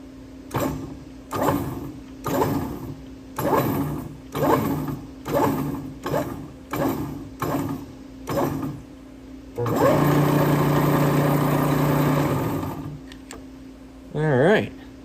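A tap threading a hole in a cylinder head under machine power turns in a run of evenly spaced, rhythmic mechanical strokes, then gives way to a steadier grinding whir with a faint hum underneath.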